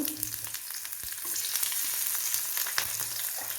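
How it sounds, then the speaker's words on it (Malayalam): Mustard seeds and onion fry in oil in a cheenachatti on the stove for fish curry, giving a continuous sizzle with occasional sharp crackles and light stirring sounds, without any speech. "ഒരു ചീനച്ചട്ടി അടുപ്പത്ത് വെച്ച് എണ്ണ ഒഴിച്ച് കടുകിട്ടു ഉള്ളിയിട്ടു"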